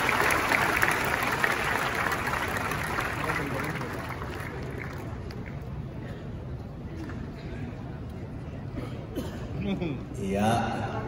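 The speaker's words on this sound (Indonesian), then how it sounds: "Mari kita kasih tepuk tangan juga, saudara, supaya senyumnya semakin cerah." Applause from an audience at a church-founding ceremony opening with Indonesia's Minister of Religious Affairs, a broad crowd wash fading gradually over several seconds amid background talk.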